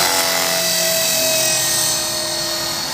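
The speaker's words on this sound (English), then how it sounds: "this helicopter is proving to be really nice" A small 450-size model helicopter whines steadily at high pitch, rotor and motor buzzing loud and close throughout.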